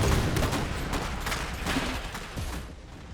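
Rapid bursts of gunfire from units shooting in the strategy game Iron Harvest, dense overlapping shots and crackling volleys continuing steadily, close and loud, with no talk over them.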